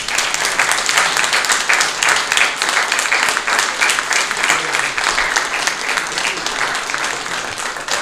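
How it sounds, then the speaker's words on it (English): Audience at a lecture on the Armenian memory book applauds a speaker with steady, dense clapping that fills the whole stretch at an even, fairly loud level, with no voices over it. "And now please applaud for Khatchig Mouradian."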